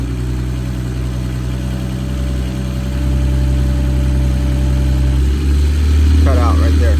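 Car engine idling with the AC compressor clutch cycling, a steady low hum throughout that grows slightly louder after the midpoint, with a faint change near the end as the compressor cuts in or out.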